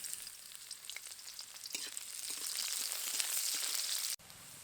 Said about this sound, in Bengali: এবার এই তেলের মধ্যেই দিয়ে দেব পেঁয়াজ কুচি।